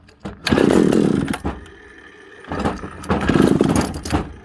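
An old barn-fresh vintage Pioneer chainsaw is pull-started, giving two rough, loud bursts of sputtering engine and cord rattle about two seconds apart, close by.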